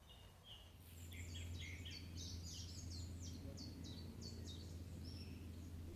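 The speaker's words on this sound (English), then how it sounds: "Just about time to enjoy the birds. Having a little sing-song before they go to bed." Small birds sing and chirp repeatedly in evening woodland, faint and somewhat distant, their high twittering phrases layered over a low steady background hum.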